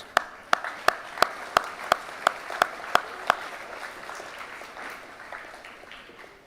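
Sparse, evenly spaced claps from a small group after the under-13s sports team is named, about a dozen sharp hits that thin into a soft wash of scattered applause.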